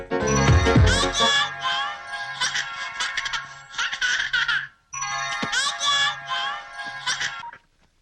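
A phone ringtone plays in repeated melodic bursts with short pauses between them, loud and close, after a brief burst of laughter at the start.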